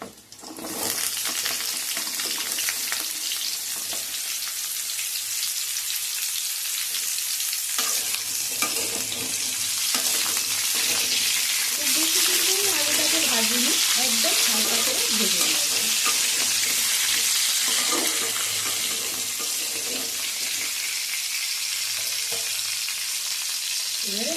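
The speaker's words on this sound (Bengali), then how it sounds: "আমার আলুটা হালকা করে ভাজা ভাজা হয়ে গেছে এবারে আমি এর মধ্যে অ্যাড করে দিচ্ছি কেটে রাখা ডাটাগুলো" Potato pieces frying in a pan as cut drumstick stems are added and stirred, a loud continuous sizzle with scraping stir strokes and occasional clinks, a voice faintly present in the middle.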